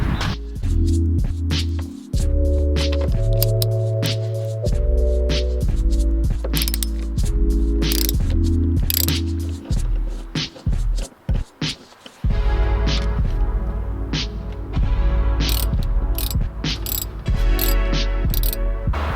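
Bolts being worked out of the passenger seat base in an Audi A5 Black Edition, a steady run of loud, close ratcheting clicks and metallic mechanical rattling with rhythmic bursts, carrying on without speech.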